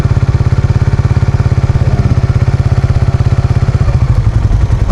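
A Suzuki Raider fuel-injected motorcycle engine runs loud and close with a rapid, even pulsing beat, then its rhythm loosens and roughens toward the end.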